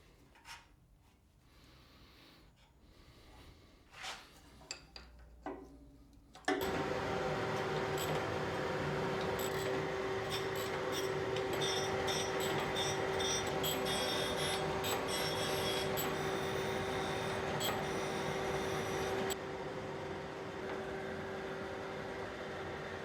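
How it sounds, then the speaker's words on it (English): A surface grinder evens up machined riser blocks with a loud, continuous grinding whine and a steady tone that carries through most of the stretch. Quieter scraping and clunks come before it starts, and the level drops slightly near the end. "I think I'll even them up on the surface grinder"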